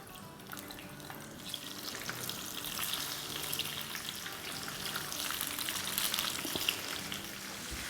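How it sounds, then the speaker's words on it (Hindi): Eggplant pakoras deep frying in hot oil, a steady dense crackle and hiss that stays even throughout, heard close with no talking. "ये बैंगन के हमारे फ्राई हो रहे हैं"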